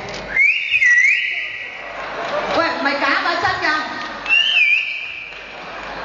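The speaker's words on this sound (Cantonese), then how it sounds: "我想吹口哨，得唔得啊？" A person whistles a bright, wavering tune into a microphone at a dinner event in front of a crowd, two separate bursts with chatter and a burst of speech between them.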